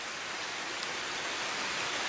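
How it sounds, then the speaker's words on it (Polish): Steady rain falls at a wild lake in the Kukle nature reserve, an even, dense hiss of drops with no breaks and no voices. "Pada deszcz"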